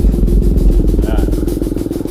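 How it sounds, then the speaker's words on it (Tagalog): A motorcycle engine labors up a hiking trail toward a volcanic crater, close and loud, with a low, throbbing, pulsing drone that holds steady throughout. "Kaya ng motor talaga."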